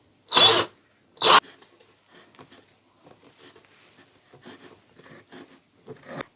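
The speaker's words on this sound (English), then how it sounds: "then we're going to drill through." Two short, loud bursts of a power drill drilling through wood, followed by quiet scraping, clicking and handling noises.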